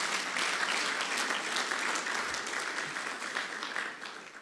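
A church congregation applauds during a sermon: a dense, continuous wash of clapping that holds steady and then tapers slightly toward the end.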